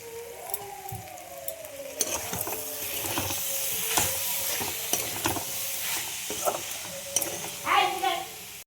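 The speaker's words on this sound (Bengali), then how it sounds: "এইভাবে সব একসাথে সোয়াবিন, আলু আরও মিনিট 2 আমি ভালো করে কষিয়ে নেব" Soybean chunks and potatoes sautéing in a pan with ginger and capsicum, a close sizzle with frequent stirring scrapes and clatters, while a faint wavering tone drifts in the background.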